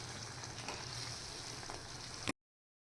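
Dal stirred into a frying pan of ghosavale (ridge gourd) vegetable gives a steady, soft sizzle with faint scraping, then the sound cuts off abruptly.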